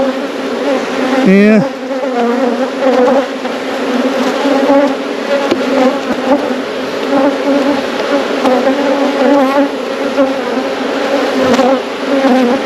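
Honey bees buzzing around an open beehive during a hive inspection, a loud, dense, continuous drone with individual bees whizzing close by, and brief speech once.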